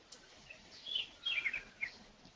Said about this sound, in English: You have a bird, too.